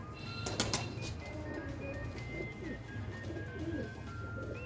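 Lahore Siraji pigeons coo softly and low, a faint, repeated murmuring against a steady background hum.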